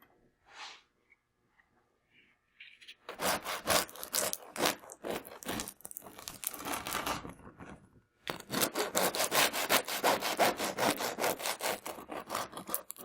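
A knife that is not very sharp saws through a loaf of blister crust sourdough bread. Rapid rasping strokes on the crackly crust come in two long, close bursts with a pause between them.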